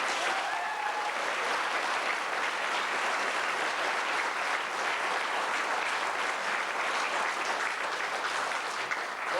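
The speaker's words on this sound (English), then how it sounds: "we'll ask for a nice round of applause for Gus Ward" A large audience at a tribute evening in Carrigallen breaks into sustained, dense applause for Gus Ward, a steady roar of many hands clapping without a break for the full length.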